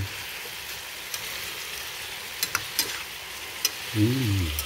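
Chicken afritada is stirred in a frying pan over a low, quiet sizzle, with a few sharp utensil clicks against the pan and a short hum near the end.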